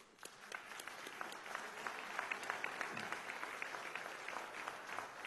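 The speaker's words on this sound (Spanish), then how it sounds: "Aplaudimos por el aniversario del natalicio de ese gran pensador y revolucionario Alfredo" Members of Venezuela's National Assembly applaud in a session hall for the anniversary of Alfredo Maneiro's birth, scattered sharp claps building into steady moderate clapping that lasts throughout and sounds slightly distant.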